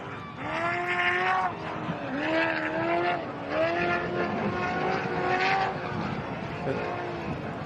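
An all-wheel drive Alumacraft race car runs through the infield of a desert race, its engine revving hard through repeated rising gear sweeps, loud and close, while a commentator talks over it.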